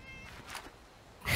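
A single short cat meow from the video game Fallout 76, heard alone and fairly close against faint game ambience.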